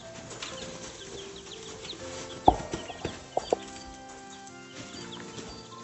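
Chickens in the Stardew Valley video game cluck and squawk close by in a busy farmyard, with a few sharp louder calls standing out over a steady background of fowl chatter.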